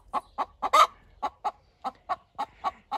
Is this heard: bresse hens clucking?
yes